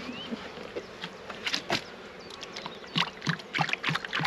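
Honey bees buzzing around a nucleus hive outdoors, a continuous insect drone with individual bees passing close by in louder swells, no talking.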